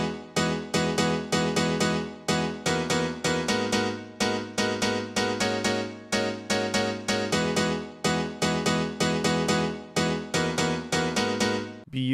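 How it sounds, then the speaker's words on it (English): A classic piano house piano patch from a Korg M1 with hall reverb and chorus plays bright, punchy syncopated chord stabs in a steady repeating dance rhythm, loud and alone. "Beautiful classic piano house sound."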